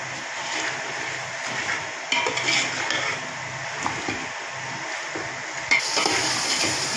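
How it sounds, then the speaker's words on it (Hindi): Mutton browning in a pot for Kabuli pulao, a continuous close sizzle and frying hiss with occasional louder stirring scrapes and clinks, no voices. "इसे तकरीबन हम 4 से 5 मिनट भूनेंगे।"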